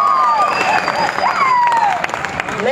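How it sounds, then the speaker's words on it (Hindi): Applause and cheering from an audience at a school Teacher Day event, greeting the award presenter; continuous clapping fills the room with a crowd wash and scattered whistles or shouts on top. "भरपूर तालियां होनी चाहिए सर हाजी फिजा साहब के लिए।"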